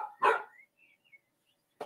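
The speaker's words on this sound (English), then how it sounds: "I'm just hearing Roxy bark again" A pet dog barks once nearby in a quiet room, a short loud burst followed later by a second brief bark, with near silence between.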